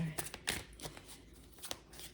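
Tarot cards riffle and flap in quick bursts as a deck is shuffled close by, soft and papery, with a few sharper snaps.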